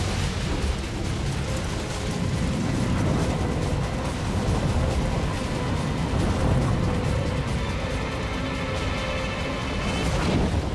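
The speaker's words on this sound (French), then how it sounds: "Les wagons remplis de fuel explosent les uns après les autres" A continuous, loud roaring rumble of fuel-filled rail wagons exploding one after another amid fire, dense and low-pitched, with no clear breaks.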